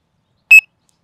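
Sonik Gizmo2 electronic fishing bite alarm set to its high pitch tone, sounding a single short, loud electronic beep that cuts off sharply in silence.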